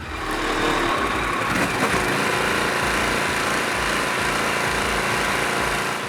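A Harley-Davidson Sportster S engine revs in neutral steadily and loudly up close, limited to about 2500-3000 rpm, a sustained, buzzing drone that holds its pitch with little variation throughout.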